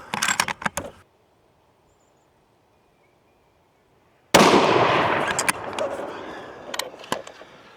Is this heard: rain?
no